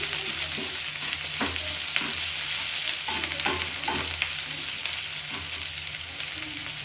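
Curry leaves crackle and fry in hot oil while cooking butter paneer masala, giving a steady close sizzle with scattered sharp pops and a few stirring scrapes.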